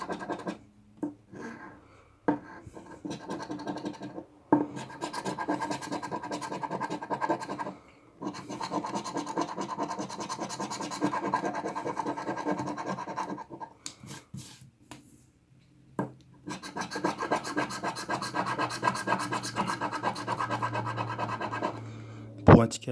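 A scratch-off lottery ticket being scratched with a coin or nail, with bursts of dry, close scraping separated by short pauses, and a voice talking over parts of it.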